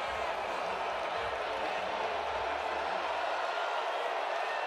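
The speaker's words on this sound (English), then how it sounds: "The crowd is getting amped up here at a Legacy Stadium" Steady, loud crowd roar fills a packed Legacy Stadium during a 2023 Pitt versus Wake Forest college football game, a dense, even wash of noise with no distinct break.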